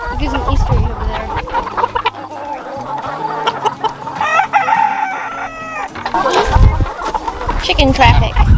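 Farm chickens clucking and a rooster crowing nearby in a busy yard, with scattered calls throughout and people talking over them.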